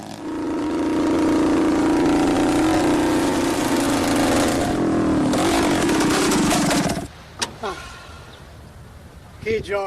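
A Vespa 125 Corsa racing scooter ridden on the Piaggio test track, its small engine droning loudly and steadily close by before cutting away, leaving a few sharp knocks and handling noises.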